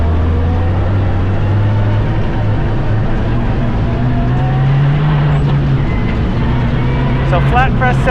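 A rally car with a dying engine drives a gravel stage of the 2025 Oregon Trail Rally, its strained engine droning steadily up and down in pitch under loud cabin and road noise, with a co-driver's pace-note voice near the end.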